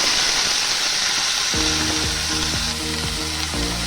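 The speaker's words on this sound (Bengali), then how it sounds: "এবার আমি পেঁয়াজ আর টমেটোটা দিয়ে দেব।" Onion and tomato go into hot white oil for paneer tikka masala, setting off a steady, close sizzle and frying hiss with rhythmic stirring taps from about halfway on.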